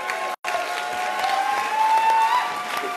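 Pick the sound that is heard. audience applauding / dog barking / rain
audience applauding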